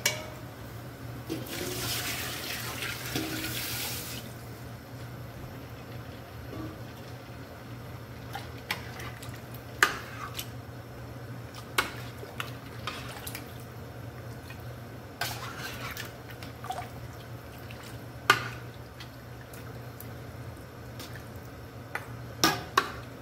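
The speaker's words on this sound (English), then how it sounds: "I'm gonna add water" Water poured into a cooking pot of meat for Guyanese pepper pot, a steady splashing pour in the opening seconds, then quieter kitchen clinks and drips, fairly close.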